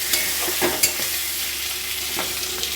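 Cut potatoes and tomato frying in a pan are stirred, giving a steady sizzle with a few scraping stirs and clinks spread through, and no talk.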